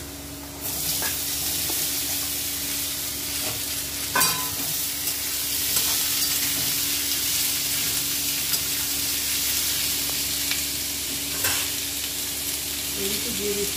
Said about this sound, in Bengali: এখন দিয়ে দেবো সে কুচনো তরমুজ